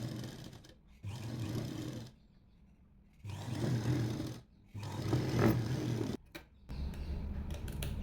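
A sewing machine stitches the neckline of a kurti in several bursts, each running a second or so with short quiet gaps between, a steady close mechanical whirr with no talking.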